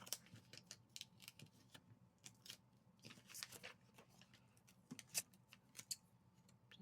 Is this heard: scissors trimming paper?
yes